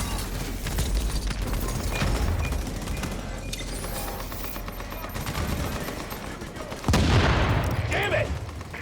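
Turret gunfire in The Division video game, rapid repeated shots rattling continuously with a heavier burst near the end, under shouted voices.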